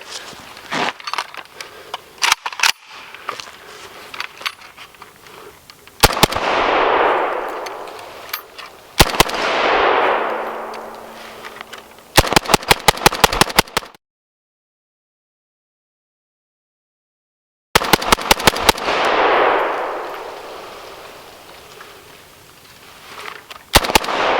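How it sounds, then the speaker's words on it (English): Outdoor gunfire from a SAM7 SF AK rifle emptying a magazine: bursts of loud, sharp, close shots, single and rapid strings, each followed by a long rolling echo, with a pause of silence partway. "I'm going to just run this last mag through it here"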